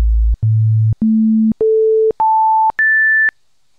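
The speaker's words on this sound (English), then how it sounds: "It's just going to be playing A in each octave" Synthesized pure tones generated with SoX, the note A stepping up through six octaves, each tone about half a second long with brief gaps between them, rising from a deep hum to a high whistle.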